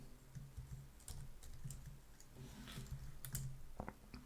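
Typing on a computer keyboard while coding a PHP form, a quiet, steady patter of key clicks with irregular bursts and a few louder taps, with no speech over it.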